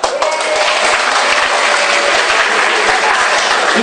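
A seminar audience in Indonesia bursts into loud, energetic, dense applause, enthusiastic clapping in the style of excited children, steady and full throughout the short span.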